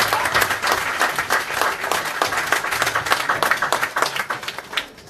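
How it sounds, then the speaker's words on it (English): An audience at a Nation of Islam UK regional gathering gives a speaker a big round of applause. Loud, dense, rhythmic clapping continues throughout with a crowd murmur beneath it. "Let's give him a big round of applause and welcome."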